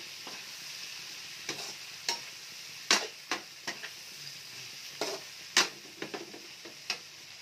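Tofu frying in a pan with filet pieces, a steady soft sizzle broken by sharp clicks and scrapes of a utensil stirring at irregular intervals.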